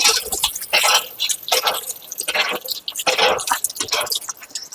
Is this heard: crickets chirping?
no